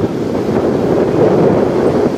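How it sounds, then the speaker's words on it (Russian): Squally storm wind sweeps across Lyubimovka beach, a steady loud rushing roar buffeting the microphone without pause, with no voices. "Через полтора часа превратился в шторм, шквальный ветер."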